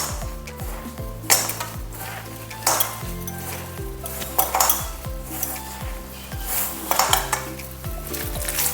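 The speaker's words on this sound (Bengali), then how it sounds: "ভালো মতো মেখে নিচ্ছি।" Spiced vegetable pakora batter is worked by hand or spoon in a bowl, giving soft wet squelches with occasional clinks against the dish and a faint sizzle behind.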